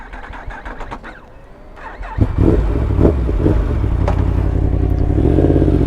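A motorcycle engine cranks and stumbles for a couple of seconds, then catches and settles into a loud, steady idle, close up, with a brief rev near the end.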